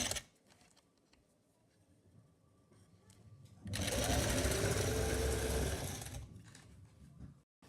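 A sewing machine stitches fabric for a long gown, running in one loud, steady burst of a couple of seconds after a quiet lead-in, then stopping.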